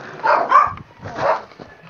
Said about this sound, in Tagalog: May aso ma'am.